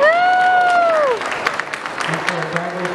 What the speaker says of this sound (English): can they get a round of applause for our dive buddy?